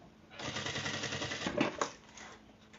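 A sewing machine stitching a zippered box-style pencil case, a fast steady mechanical run that starts after a brief pause and goes on for about a second and a half, ending in a few clunks. It is loud and close, with no talk.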